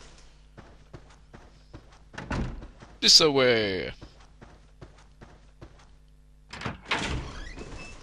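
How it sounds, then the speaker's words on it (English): A door in Clock Tower 3 that had a sigil broken on it: soft footsteps, a creaking, scraping swing of the old door, then a dull knock, with brief talk. "we'll just go through that door that we broke the sigil on"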